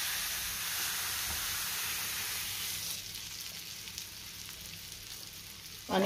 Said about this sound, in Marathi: तवा गरम झालाय, आता हे थालीपीठ आपण तव्यावर घालूयात।